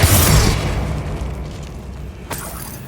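Spells burst in Hogwarts Legacy gameplay: a loud, booming explosion opens, then decays into a rumbling tail, and a second sharper blast hits near the end.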